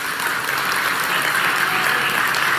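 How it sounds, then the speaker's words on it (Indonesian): A church congregation at a sermon breaks into applause, a dense, even roar of many hands clapping at once, sustained and fairly loud throughout. "Kita beri tepuk tangan untuk ini"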